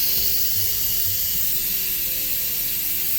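An Instant Pot cooking pork chops releases hot steam: a loud, steady, close hiss that holds without a break, with no talking over it.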